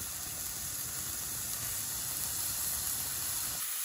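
Burger patty dusted with seasoning salt frying in a pan, a steady close hiss and sizzle running unbroken with no voices over it.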